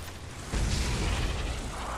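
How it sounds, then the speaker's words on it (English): Explosions in the video game Borderlands 2: a sudden loud blast at about half a second becomes a sustained, dense roar of booms and rumble that keeps going to the end. "All the explosions."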